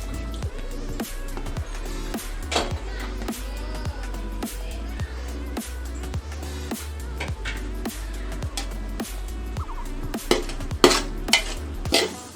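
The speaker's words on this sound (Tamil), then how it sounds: "தக்காளி நல்லா வதக்கணும்" Tomatoes sautéing in a pan for chicken 65 biryani, with a spoon scraping and clanking against the metal in a quick, repeated rhythm over a soft, steady sizzle close by.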